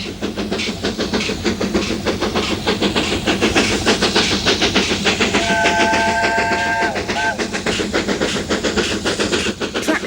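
A steam locomotive, the last to haul a British Rail passenger train in 1968, rumbles and hisses steadily with rhythmic chuffing at Bressingham, and a brief multi-tone whistle sounds partway through.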